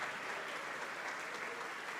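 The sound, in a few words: applause in church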